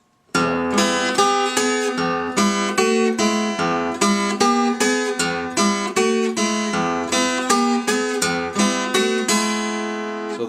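Close, clear guitar picks out the eight-note opening figure of a song at a slow, deliberate pace, each plucked note and strum ringing in turn over an even pulse before the last one fades.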